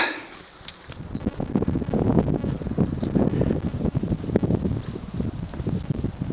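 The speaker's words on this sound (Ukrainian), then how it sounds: "А тут на підвищенні вітер заважає." Heavy wind buffeting the microphone outdoors, a continuous low rumble with gusty flutter throughout, loud and close, with no talking.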